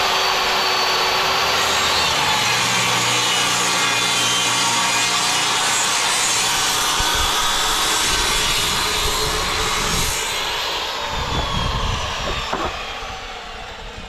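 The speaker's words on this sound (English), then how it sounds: "we rip the bottom plate to whatever the stud is" A saw rips lengthwise through a wooden bottom plate for wall framing, a loud, steady, continuous cutting roar that runs nearly fourteen seconds before tapering off, with no talking.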